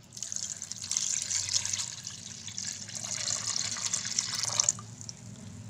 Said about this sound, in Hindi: साथ ही हम इसमें ऐड कर देंगे 1 लीटर पानी।